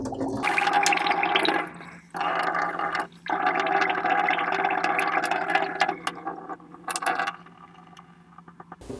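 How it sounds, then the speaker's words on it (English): Water drains from a small whisky aging barrel through its spigot, a continuous gurgling, splashing pour that cuts out briefly twice before thinning to a trickle, close and fairly loud with no talk. "I'm just going to be quiet while this thing drains."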